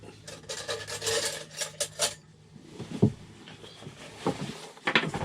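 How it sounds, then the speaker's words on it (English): Rasping, scraping cuts through a stiff sail cover's hood with scissors or a blade, a busy burst of snipping followed by slower, sporadic rubbing and handling sounds. "I'll try to just cut the hood off."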